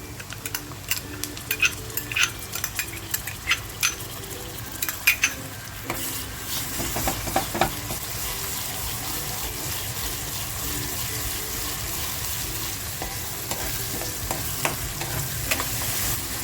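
Grated tomato goes into reddish frying onions and is stirred for squid masala, giving a steady sizzle with repeated clinking spoon strokes against the pan, busier at first, with no talking.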